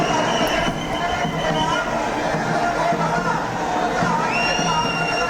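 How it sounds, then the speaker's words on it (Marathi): Dense crowd of Maratha protesters packed onto a platform at CSMT railway station in Mumbai, a constant loud babble of many voices with station rumble beneath, steady throughout. "आंदोलक या ठिकाणी मोठ्या संख्येने प्लॅटफॉर्मवरती जमलेले आहेत।"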